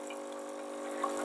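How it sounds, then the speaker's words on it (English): A Barsetto BAE 02 espresso machine's water pump hums steadily during descaling as hot water dispenses from the steam wand, a faint, even drone with a soft watery trickle and one small tick near the end. "in these 2 minutes the water pump will generate a slightly different sound"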